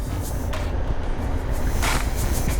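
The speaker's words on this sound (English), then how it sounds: "there are quite a bit of road noise" Steady road and tyre roar inside a Tata Nexon EV on the move, a continuous broadband rumble with no engine note, fairly loud and even throughout.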